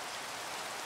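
Rain falling in the Minecraft video game: a steady, dense hiss of rainfall with no breaks, soft and even across a brief moment.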